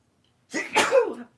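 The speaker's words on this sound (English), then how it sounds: "Ooh, the fluff is making me sneeze" A single sharp sneeze, close and loud, with a quick intake before the burst, then quiet.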